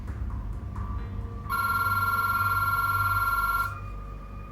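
Office telephone rings in a steady electronic trill for about two seconds, loud and close, with a faint room hum before and after and no talking.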